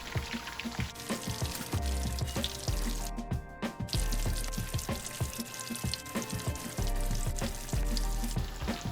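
Busy crackling and sizzling of fish frying in hot oil, second frying, continuous and close, with scattered sharp pops and bubbling throughout.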